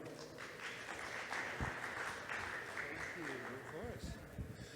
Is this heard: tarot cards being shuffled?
no